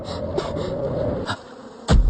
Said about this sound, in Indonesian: Sarang lebah.